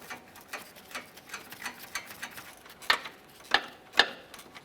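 A hand ratchet tightens 10mm radiator mounting bolts on a 2015–2019 Subaru Outback 2.5L, giving quick, close clicking swings that end in three sharper, louder clicks as the bolts snug down.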